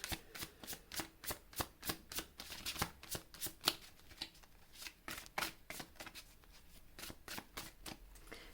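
Tarot cards shuffled by hand for a reading, a quiet close run of quick papery riffles and slaps in an uneven, steady rhythm with no talking.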